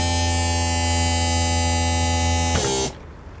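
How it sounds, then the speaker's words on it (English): Electric side jack motor on a twin axle caravan, raising the wheels just clear of the ground: a loud, steady whining hum that runs continuously, then winds down and stops near the end. "You then press the button for the side that you want on the side jacks twice, and hold it until the wheels are just clear of the ground"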